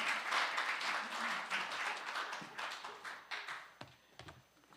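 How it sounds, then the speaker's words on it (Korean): An audience applauds, a dense wash of clapping that slowly thins and fades over a few seconds. "한번 박수 해주시죠"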